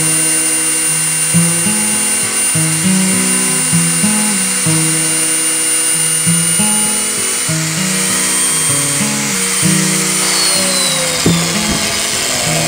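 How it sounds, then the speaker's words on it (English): An electric drill whines steadily for several seconds drilling a center hole for a wind turbine rotor, its pitch stepping up and down as it bites and eases, loud and close with no talking. "I have to drill this center hole here."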